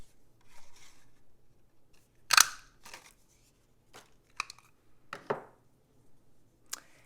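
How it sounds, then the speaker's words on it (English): A 1-inch circle punch cuts through paper stamped with Early Espresso ink: a few sharp, close crunches and clicks with quiet pauses between them and no talk. "we're going to go ahead and punch that out with the 1-inch circle punch"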